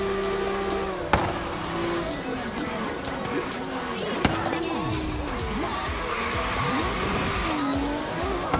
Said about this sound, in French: Ah oui, faut que je fasse du drift.